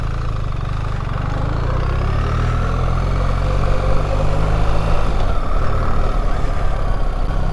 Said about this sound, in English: now let's actually jump on the bike and take it for a ride